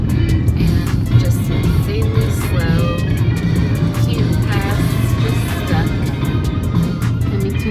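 A car drives along a foggy road through construction in St. Lucia, South Africa, with a continuous low engine and road rumble from inside the cabin and faint voices now and then.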